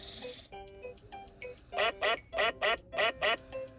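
Electronic duck quacking from a VTech Write and Learn Touch Tablet toy, a brisk run of about eight loud, evenly paced synthetic quacks after a short melodic jingle.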